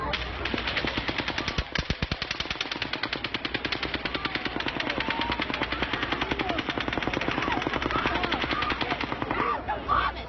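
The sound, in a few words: burst of gunfire from Las Vegas shooting recording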